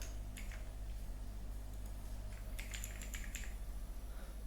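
Soft keystrokes on a laptop keyboard come in a few short bursts of clicks, faint over a steady low hum.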